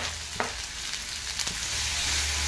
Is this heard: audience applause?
no